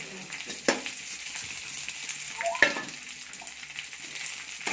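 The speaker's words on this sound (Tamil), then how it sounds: "எண்ணெய் காஞ்சதுக்கப்புறம் நம்ம எடுத்து வச்சுருக்க முருங்கைக்கீரை சேர்த்து வதக்க வேண்டியது தான்" Drumstick leaves sauté in hot oil in a kadai, giving a continuous close sizzle with a couple of sharp stirring knocks against the pan partway through.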